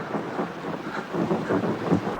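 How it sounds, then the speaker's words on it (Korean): Stormy rumble of thunder, wind and rain in a film adaptation of Agatha Christie's And Then There Were None, with a continuous dense roar swelling in waves. "폭풍우가 몰아쳤고 브런트 부인도 잠을 이루지 못합니다"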